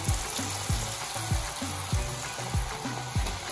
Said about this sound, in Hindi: अब हम सारे पोटैटो इसमें डाल के अच्छे से फ्राई कर लेंगे